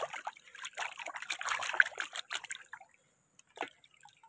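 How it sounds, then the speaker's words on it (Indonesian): Water trickles and splashes close by as a yellow toy ornamental fish is washed, irregular dribbling and sloshing that fades to brief drips near the end, with no voices. "Kita cuci dulu ya."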